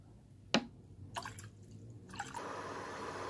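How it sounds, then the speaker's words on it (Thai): Clean water is poured into a cooking pot until it is half full: a single sharp drip, then two brief splashes, then a steady close pouring wash that continues to the end. "เทน้ำสะอาดลงไปครึ่งหม้อนะคะ"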